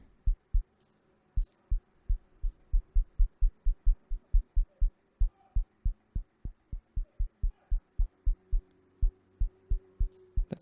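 Synthesized kick drum built in Linux with a bandpass filter, a steady run of short, deep, thumping hits at an even tempo, fairly quiet and isolated with nothing else playing.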